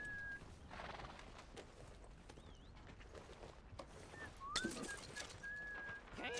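A horse in Red Dead Redemption 2 whinnies loudly and clip-clops its hooves, with whistling and bird calls in the game's outdoor ambience and no speech over it.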